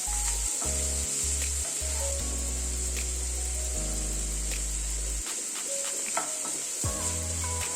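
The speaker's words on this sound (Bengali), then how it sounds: "পেঁয়াজ এবং সব সবজিগুলো হালকা ভেজে নেওয়ার পরে" Onion and mixed vegetables fry in a pan for macaroni pasta, giving a steady close sizzle with occasional stirring scrapes, while a low hum runs underneath and briefly drops away.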